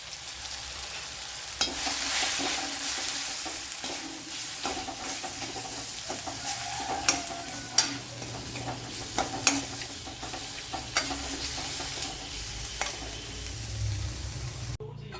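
Masala and spice powder frying in a pan for an egg roast, a continuous soft sizzle with irregular scraping clicks of a spoon as the mixture is stirred, close and steady throughout.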